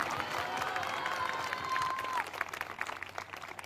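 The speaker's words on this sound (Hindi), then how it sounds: "ताली तो बजा दो, धन्यवाद तो कर दो।" Congregation clapping in praise during a prophecy and prayer service, a steady dense wash of applause from a large crowd throughout, with voices mixed in.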